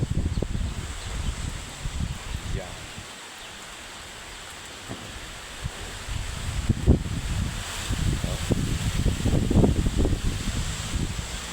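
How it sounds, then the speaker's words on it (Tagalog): Gusts of strong typhoon wind roar and buffet in waves, swelling louder toward the end, with a brief spoken word early on. "Lakas ng bagyo."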